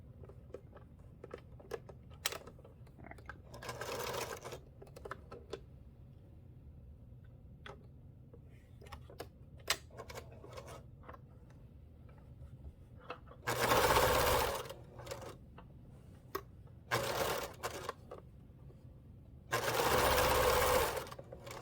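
A sewing machine stitches binding onto a quilt in several short bursts of steady whirring, separated by quiet stretches with small clicks and handling taps.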